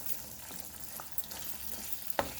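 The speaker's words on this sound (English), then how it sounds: "I'm just going to stir that in to the pork. Just stir it to ensure that it gets incorporated." Pork chops sizzle softly in a pan over a low flame while being stirred, a faint steady frying hiss with occasional light scrapes and one sharper clink near the end.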